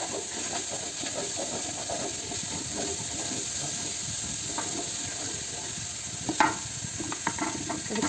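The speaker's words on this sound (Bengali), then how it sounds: "এখন সবজিটা এর মধ্যে ঢেলে দিব" Mixed vegetables, among them jackfruit, tipped into a hot pan of oil with a little sugar, giving a steady broad sizzle and hiss that runs throughout, with a few sharper crackles and stirring clatters near the end.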